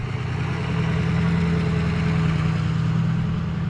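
A teenager's pickup truck, bought used, rumbles steadily at idle or low speed, a constant low engine drone with no voices.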